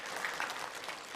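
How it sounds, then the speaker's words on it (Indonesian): A church congregation at an Indonesian worship service claps together, a brief, faint wash of steady applause that sounds somewhat distant. "Kita beri tepuk tangan untuk kebaikan Tuhan."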